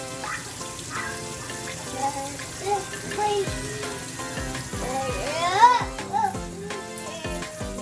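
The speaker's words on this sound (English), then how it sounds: "Run some hot water over your pan." Hot water from a kitchen tap runs over a pan, giving a splashing, gurgling rush with clattering and sizzling bursts as the flow hits the metal, loud and close, in a home kitchen.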